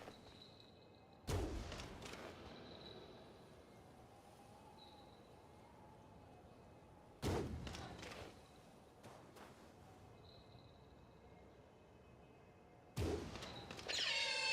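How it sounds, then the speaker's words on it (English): Three heavy cannon blasts in the video game Nioh 2, each a sudden loud boom with a decaying rumble, spaced several seconds apart over a quiet ambient background with faint chirps. "I will shoot this guy with a cannon"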